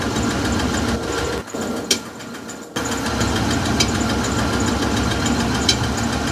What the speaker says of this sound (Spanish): escuchen el motor como se ve, está fallando, baja